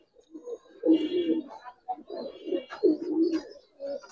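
Giribaz pigeons in a shop in Old Dhaka give repeated close, soft throaty coos in short rolling bursts, with faint voices in the background.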